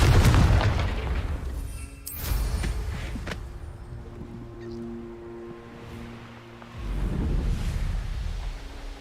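Confringo fire-blast spell in Hogwarts Legacy, a deep booming explosion up front followed by a rumbling, crackling tail and a second swell of rumble, loud amid game ambience.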